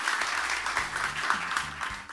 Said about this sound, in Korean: 박수 한번 부탁드리고요.